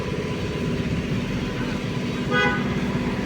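Heavy traffic on a busy road beside a market, with a steady engine rumble close by and a short car horn toot cutting through midway.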